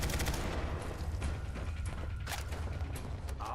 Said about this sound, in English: Who's still shooting me?